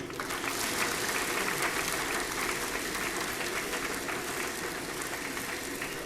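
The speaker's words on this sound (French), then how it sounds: "pour la remise de prix que je vous demande d'applaudir, s'il vous plaît" Steady, fairly soft audience applause fills a twentieth-anniversary award ceremony, a dense even patter of many hands continuing for six seconds.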